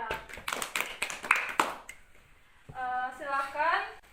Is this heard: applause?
yes